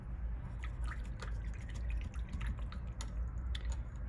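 Water drips onto Himi gouache paint while it is being swatched: small, repeated wet ticks and plips scattered over a constant low rumble.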